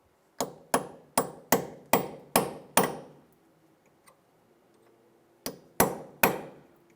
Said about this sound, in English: I'm just going to take a punch and just get underneath here. Just try to bend it back a little bit.